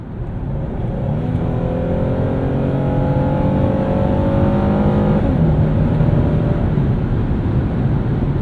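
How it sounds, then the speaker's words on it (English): A 2009 Hyundai Genesis with its V6 engine accelerates hard on a kick down, the engine note climbing steadily and staying loud from the cabin for several seconds, with no talk. "We'll do a kick down."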